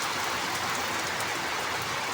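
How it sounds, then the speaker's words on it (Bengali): Heavy rain pours steadily during a storm, a dense, even hiss of falling water heard at moderate level throughout, with no voices. "বৃষ্টিটা ভালোই জোরে আরম্ভ হয়ে গেছে"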